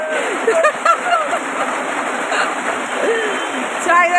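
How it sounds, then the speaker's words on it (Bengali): Heavy rain pours steadily on a street in Kolkata, a dense constant hiss with splashing, while people talk over it. "দেখতে পাচ্ছ প্রচুর বৃষ্টি"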